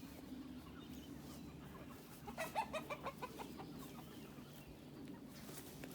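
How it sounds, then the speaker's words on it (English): Salmon Faverolles chickens cluck in their pen on a homestead in July, a short run of rhythmic clucks rising midway over steady outdoor background noise. "These are the salmon faverolles."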